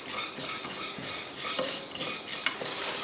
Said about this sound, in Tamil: அரிசி பருப்பெல்லாம் லைட்டாக வறுக்க ஆரம்பித்ததுமே கொஞ்சம் கருவேப்பிலையும் அது கூட சேர்த்து வறுத்துக்கலாம்.